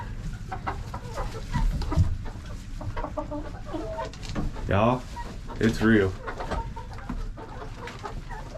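Backyard chickens cluck and squawk in short bursts around a couple of loud calls, while a person talks casually nearby over steady outdoor noise.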